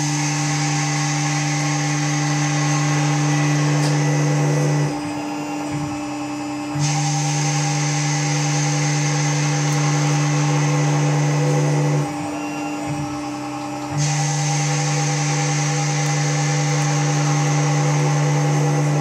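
A Tormach RapidTurn lathe hums loudly at steady spindle speed while turning a part under automatic control, its whine dropping away twice for a couple of seconds before resuming, with faint chip-breaking ticks.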